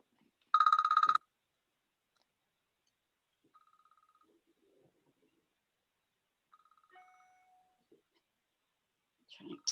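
A telephone rings from an unknown caller in a home art workspace, giving one short, loud burst of bright ringing near the start, followed by long quiet stretches with only faint beeps and soft rustling.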